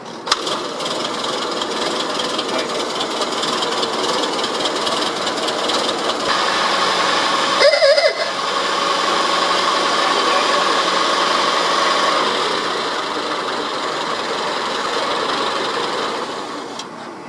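A century-old light car with a 20-horsepower engine runs steadily at a dealership car show, a loud continuous mechanical drone with a brief louder burst partway through.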